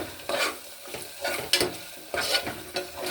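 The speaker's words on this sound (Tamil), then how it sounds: "இந்த மாதிரி பொன்னிறமாக வெங்காயத்தை வறுத்து வச்சுக்கணும்" Onions frying golden in a pan for chicken 65 biryani, close sizzling punctuated by several quick spatula stirs and scrapes, no voices.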